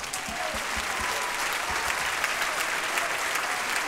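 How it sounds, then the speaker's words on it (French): At a circus artists' festival, the audience claps vigorously for the Minsk State Circus ballet, a dense and even burst of applause heard up close with no talking over it. "On les applaudit très très fort."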